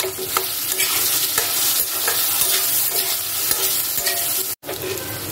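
Chicken frying in a pan with salt and spices, a steady loud sizzle broken by scraping stir strokes and clinks, with a brief dropout near the end; no one speaks.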